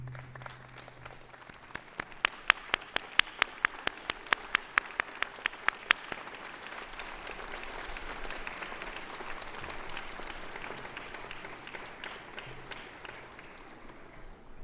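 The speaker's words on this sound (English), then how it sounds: "give them a round of applause for all they've done for you" A graduation convocation audience stands and applauds in a large hall. Loud, sustained clapping from a big crowd fills the whole fifteen seconds, with a few sharp claps close by near the start.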